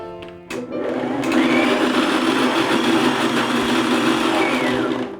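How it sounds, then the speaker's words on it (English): A kitchen blender grinds poha idli batter with a loud, steady whirring roar that kicks in after a brief pause and holds evenly until it tapers at the end. "I think just 1-2 blends more and it should be done"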